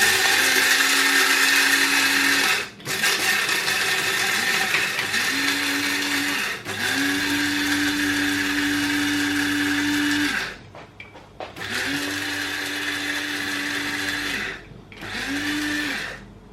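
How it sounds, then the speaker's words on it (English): An electric kitchen grinder blending green ingredients for a roast-potato dish whirs loudly and close, running in several pulses of a few seconds each with short stops between them and no talking. "put it in the grinder first"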